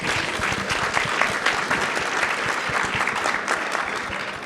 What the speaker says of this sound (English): I think all of you deserve a round of applause for doing that.